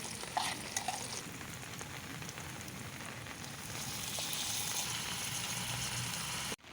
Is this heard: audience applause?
no